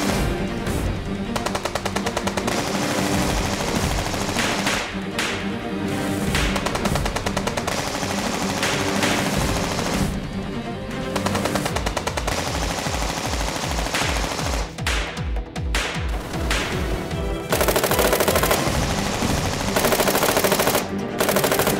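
Sustained machine gun fire fills a TV drama shootout: dense, loud bursts rattle almost without pause, with several weapons overlapping and only brief gaps in the barrage.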